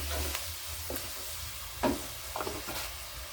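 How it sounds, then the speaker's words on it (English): Salt and tomatoes stirred together in a frying pan, a low sizzle with a few distinct scraping strokes of the spoon, close and moderately quiet, no one speaking. "Stir that together."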